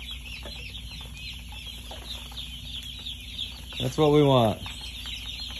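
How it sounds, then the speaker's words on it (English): Young chicks in a warm brooder peep and chirp steadily in the background, with a short, louder run of clucking or calls near the end and a brief spoken remark. "So chickens are here. You see how active they are. They're loud."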